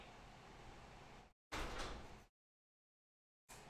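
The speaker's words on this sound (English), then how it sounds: "Close the door, please." An indoor household door sliding and bumping shut in two bursts, close and fairly loud, separated by brief silences and with no talking.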